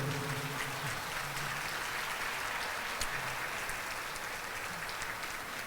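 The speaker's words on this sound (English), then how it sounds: "Please stand for a formal applause" Steady applause from a banquet audience standing for a formal ovation, sustained at even loudness throughout with faint voices mixed in beneath the clapping.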